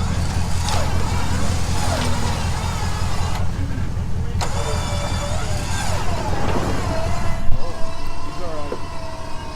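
Jeep driving off-road at a Jeep jamboree, a steady engine rumble close up with people talking over it throughout.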